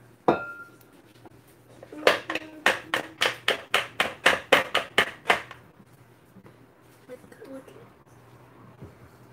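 A spoon raps against a mixing bowl while scraping down its sides for cream cheese buttercream, a quick run of about a dozen sharp clacks after one earlier knock, then quiet with faint background sounds.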